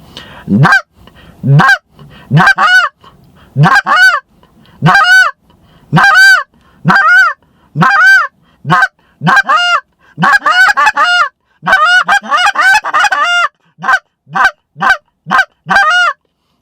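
A goose call imitating geese feeding on the ground blows repeated rapid honks, clucks and moans in quick bursts, loud and close, with short pauses between strings of calls.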